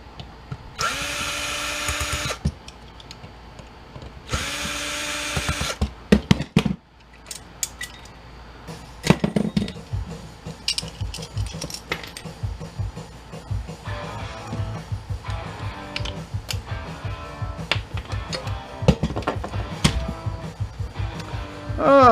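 A power drill backs screws out of a food processor being scrapped, with two long whirring bursts, then a clatter of metal parts, clicks and tool handling at close range.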